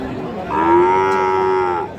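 A single long, loud moo from a cow at Raniganj cattle market, close by, sustained for over a second before trailing off.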